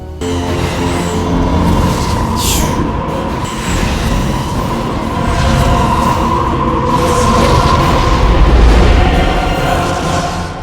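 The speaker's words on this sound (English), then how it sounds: "The Ori ship is taking flight." Ori spaceship from Stargate SG-1 lifting off, a loud continuous low rumbling roar with layered engine hum and swelling booms, steady and close throughout.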